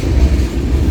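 A close, loud, steady low rumble of a passing FEC freight train made up entirely of trash cars, with a continuous rolling drone.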